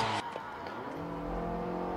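A Mazda 6 with the 2.5-litre SkyActiv petrol engine, 194 hp, revs high after a short opening burst, with a steady rising engine tone that holds to the end.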